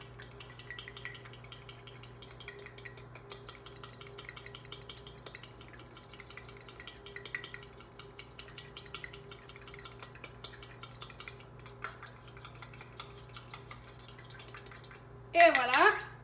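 A fork whisks brownie batter in a mug with soft, faint scraping and light clinks in a steady stirring rhythm, followed by a louder clatter at the very end.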